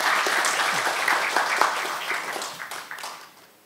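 Members at a regional science and technology federation gathering applaud warmly, a full crowd clapping that starts strong, carries scattered louder claps, then gradually thins and fades out.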